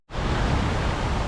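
Fountains in the Magic Water Park in Lima, Peru, make a steady, close rushing wash of splashing water that starts suddenly and goes on without a break.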